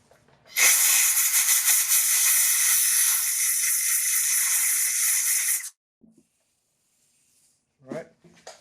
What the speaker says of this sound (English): I'm going to get some compressed air.